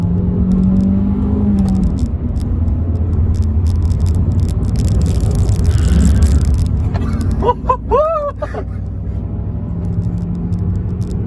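A Fiat Egea with a 1.4 Fire engine drones and rumbles through a road-holding test, its tires squealing in brief repeated bursts partway through, with people talking inside the car.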